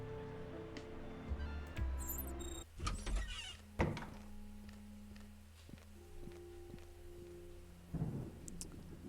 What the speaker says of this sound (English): Bad news, the rain doesn't seem ready to stop.